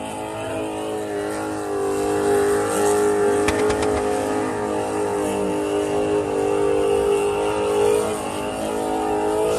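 A car engine revs hard as it launches into a drift on a desert sand run, a loud sustained droning roar with shifting pitch that holds throughout.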